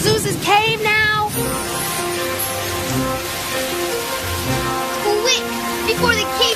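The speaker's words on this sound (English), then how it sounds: "it's raining on ours" Cartoon rainfall comes down as a steady hiss beneath music and children's voices talking.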